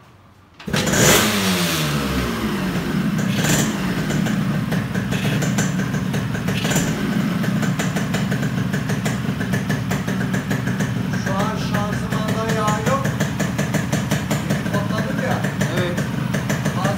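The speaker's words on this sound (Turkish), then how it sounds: "sana bir Yamaha sesi dinleteyim" A Yamaha RX two-stroke motorcycle fires up, then idles with a steady, buzzy engine note and blips of revving, close by and loud, while someone talks over it.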